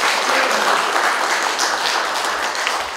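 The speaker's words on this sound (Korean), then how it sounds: "포럼의 시작을 큰 박수로 열어주시기 바랍니다." Audience applause opening a rural experience tourism forum in Gimpo, a dense, loud burst of clapping from a seated crowd, sustained evenly throughout with no talk.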